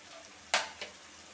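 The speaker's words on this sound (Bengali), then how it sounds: "এখন মাছগুলোর সাথে মশলাটাকে কষাচ্ছি আর মশলার থেকে তেল বের হয়ে আসছে" Large prawns frying with spices in oil for potol chingri, heard as a brief stir and scrape followed by a softer second one over a low, steady sizzle.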